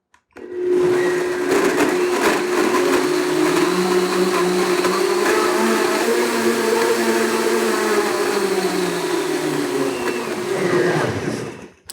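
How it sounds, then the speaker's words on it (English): A countertop blender whirs continuously for about eleven seconds blending a raw green smoothie, loud and steady with slight shifts in speed, then cuts off at the end. "We're going to blend this for about 30 seconds or so."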